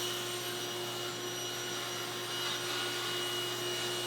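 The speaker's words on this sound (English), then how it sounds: "I'm going to give myself a nice straight edge on one side that's going to go against the fence of the table saw by using my joiner" A jointer running while straightening the edge of a 1/2-inch plywood sheet in a woodshop, a steady, loud, broadband whir with a constant motor hum and no pauses.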